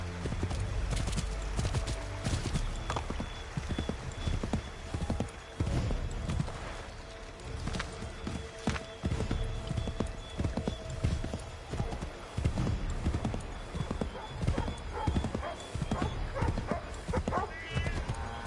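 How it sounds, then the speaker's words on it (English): A horse gallops in Assassin's Creed 3 with rapid, continuous hoofbeats, close and loud, plus a brief whinny, while characters talk over the ride. "Get back on the horse, Connor."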